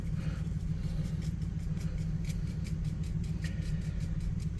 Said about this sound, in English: my neighbor doesn't believe in muffler